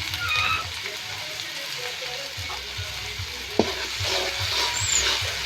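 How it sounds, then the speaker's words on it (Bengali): Onion and ginger-garlic paste fry steadily in a pan for mutton curry, a continuous close sizzle with occasional stirring scrapes and one sharp clack midway. "পেঁয়াজটা হালকা করে ভেজে নেব। এখন আদা রসুনের বাটা দিয়ে দেবো।"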